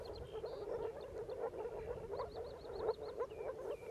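Frogs croak steadily in a mountain hay meadow pond, a dense chorus of repeated rasping calls layered at close range with no voices present.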